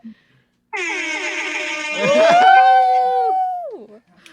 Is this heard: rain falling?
no